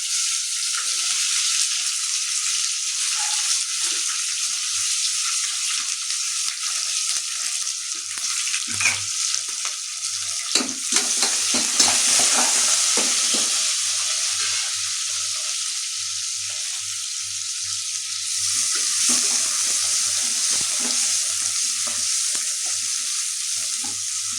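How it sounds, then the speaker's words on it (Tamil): Onions and green chilies fry in a pan for chicken biryani, giving a loud, continuous close-up sizzle that runs throughout with a faint steady hum beneath and brief stirring surges. "அப்படியே ஹீட் ஆன உடனே நம்ம எடுத்து வச்சுருக்க வெங்காயத்தை இதில் போட்டுக்கலாம் ஃப்ரெண்ட்ஸ். வெங்காயம், பச்சை மிளகாய்"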